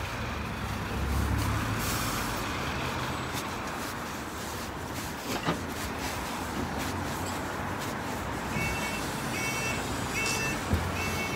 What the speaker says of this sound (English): I'll jump on a bus here, you know.